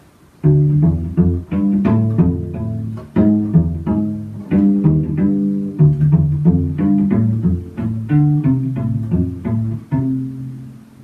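Plucked cello strings play a slow, steady pattern of deep, resonant notes, each one ringing out and fading, with no talking.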